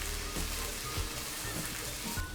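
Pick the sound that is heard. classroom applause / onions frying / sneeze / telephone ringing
onions frying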